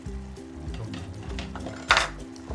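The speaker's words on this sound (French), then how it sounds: "On mélange." Mushrooms and peas are stirred in a frying pan of vegetable curry, a soft sizzle with short scraping stirs and one louder clatter near the end.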